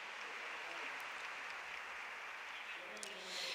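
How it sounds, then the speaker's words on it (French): Applause from a seated audience welcoming a guest who has travelled from Caracas, Venezuela, steady and dense throughout with no one speaking, swelling slightly at the end. "C'est un applaudissement"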